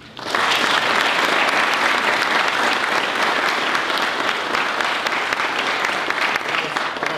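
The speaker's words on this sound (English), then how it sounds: "let's give them a round of applause, please" An audience at the 2024 U.S. Marine Corps Marksmanship Competition awards gives Marines a loud, sustained round of applause that starts abruptly and holds steady throughout.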